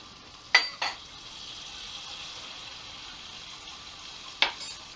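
A roux of butter and flour cooks in a pan with a low, steady sizzle. Two or three sharp clinks of a utensil against the pan cut through it, near and moderately loud, with no talking.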